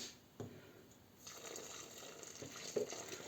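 Hot milk, 400 ml, is poured into a bowl of chocolate gingerbread batter, a faint, soft liquid stream running steadily after a couple of light knocks, with no voices.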